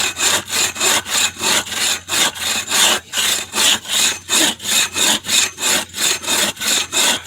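A hand saw cuts through a tree limb in steady, rhythmic back-and-forth strokes, about two per second, each a loud rasping scrape, close up with no talking.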